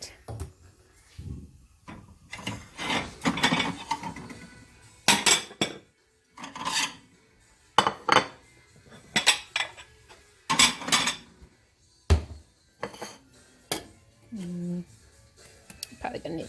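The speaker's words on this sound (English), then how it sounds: "now I'm going to take a slice out of my pot pie." Slicing and serving a homemade pot pie in a kitchen, with irregular clinks of cutlery against dishes, plate clatter and cupboard or drawer knocks spaced across a quiet room, with a person talking between them.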